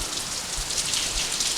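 Rain falls steadily outside a shop, a dense, even hiss of drops on surfaces, loud and close, with no talking.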